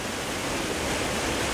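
Steady roar of the Blue River at Travnik in Bosnia, a continuous broadband wash of fast-flowing water heard up close and unbroken, with nobody speaking.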